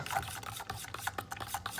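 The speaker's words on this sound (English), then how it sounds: "I'm just gonna mix it up with a fork" Milk paint stirred with a fork in a small container, giving quiet, close scraping and rubbing strokes in an uneven rhythm, with no talking.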